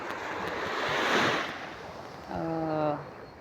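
Surf washes in and swells at Suso Beach in Ilocos Sur with steady wind noise, and a voice speaks briefly over the waves toward the end.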